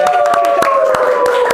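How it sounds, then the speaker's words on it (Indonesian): Steady applause from a talk show studio audience welcoming a guest, a dense even patter of many hands clapping throughout, loud and close. "Habis ini tepuk tangan lagi."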